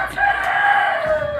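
A rooster crows loudly and close, one sustained strained call that fills the whole moment over faint background noise.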